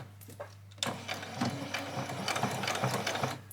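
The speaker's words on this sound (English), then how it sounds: "so we're going to take them to the sewing machine now" A sewing machine starts up and runs in a fast, steady mechanical whir close by, back stitching continuously over tacking stitches on an apron.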